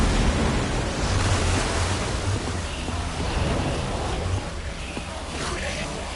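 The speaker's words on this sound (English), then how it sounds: "I don't know how much water this thing is going to kick out" Broad rushing gush of water pouring out of a machine in Minecraft, a continuous noisy roar with a low rumble underneath, fairly loud and unbroken.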